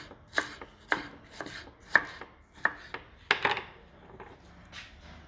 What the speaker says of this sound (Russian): Лук можно резать как хотите.